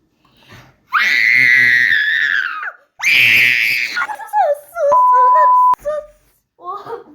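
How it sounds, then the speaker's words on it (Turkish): Two long, piercing screams ring out loudly up close, each lasting a couple of seconds, followed by excited shorter yells and squeals from a player in a video game session. "Ne biçim bağırma lan?"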